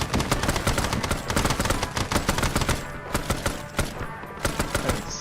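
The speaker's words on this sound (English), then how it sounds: "Start shooting back." Rapid gunfire crackles in dense, fast bursts during a Warhammer 40k game battle, near and loud at first, then thinning into scattered shots.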